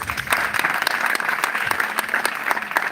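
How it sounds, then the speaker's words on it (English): An audience at a university event claps for the winners, a continuous broad wash of many hands with occasional sharper claps popping out, steady and moderately close. "clap for the winners"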